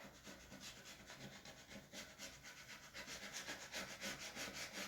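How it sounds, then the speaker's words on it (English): Quiet, continuous rubbing against a wooden surface as a transfer is pressed down by hand, a soft, steady scraping friction with a gentle back-and-forth pulse, close up and alone. "So give that a good rub."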